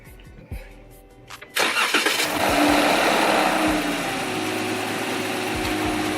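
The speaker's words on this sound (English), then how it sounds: "my son's gonna go ahead and start the car up" A Dodge Charger starts up nearby. A short cranking burst is followed by a loud, steady idle that holds without a break.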